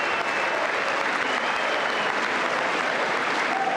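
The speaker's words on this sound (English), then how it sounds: "We're doing it again?" Sustained, dense applause fills Congress at a State of the Union address, a steady wash of many hands clapping at once with no break across the whole stretch.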